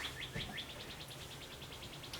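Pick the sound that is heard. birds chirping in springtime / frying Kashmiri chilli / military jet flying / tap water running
birds chirping in springtime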